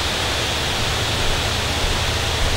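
A greenhouse watering boom irrigates at about half speed through coarse nozzles, giving a dense, even rush of spray like steady rain, loud and continuous with a low rumble underneath and no voices.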